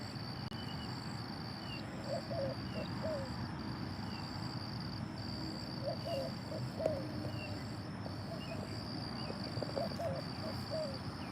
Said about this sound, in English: It's two owls going back and forth.